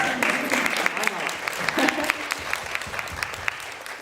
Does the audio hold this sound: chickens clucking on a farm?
no